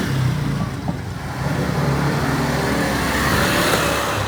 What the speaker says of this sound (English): Those are gasoline-powered motorcycles that are not even allowed to be on the road in many Chinese cities.